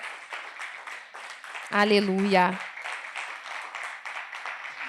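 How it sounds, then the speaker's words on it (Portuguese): Church congregation applauding steadily throughout, a soft continuous patter of clapping with one voice rising briefly over it midway. "Vamos aplaudir o nome do Senhor."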